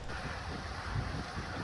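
Steady wind roaring and buffeting the microphone, a continuous low rush with no voices.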